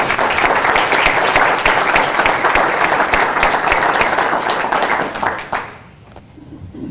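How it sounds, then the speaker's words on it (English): A room full of people at a university leadership program event claps in a steady, dense round of applause that stops abruptly near the end. "So why don't we begin with a little round of applause."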